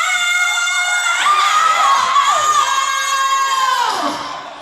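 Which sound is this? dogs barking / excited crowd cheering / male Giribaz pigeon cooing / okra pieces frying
excited crowd cheering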